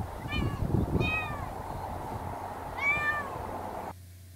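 A cat meows several times in a workshop where wood trim for a 1926 Kissel 6-55 Brougham is being restored, with a pair of short calls and then a longer one a moment later, close by and clear over faint room noise.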